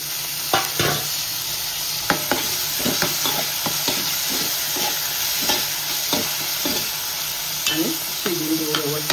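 Tomatoes fry in a pan with ginger-garlic biryani masala over a slow flame, a constant sizzle broken by repeated scraping stirs and taps of the spoon, close up and without speech.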